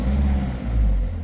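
A Peugeot 3008 with a 1.6 HDi diesel engine misfiring under acceleration, with the check-engine light on, makes a loud, close, steady low rumble that swells and dips slightly for just over a second.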